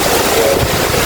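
Strong wind blowing during a rainstorm, a loud, continuous roaring rush with buffeting noise across the microphone, heard alone without speech.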